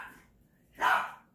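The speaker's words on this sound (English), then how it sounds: "Excuse my dog." A dog lets out a single short, close bark after a faint earlier yelp, in a quiet indoor room with no talking.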